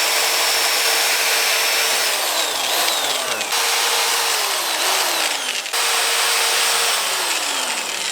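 A power drill drives self-tapping screws through metal brackets in a workshop, with loud whining bursts that rise and fall in pitch as each screw bites, three or four runs in close succession.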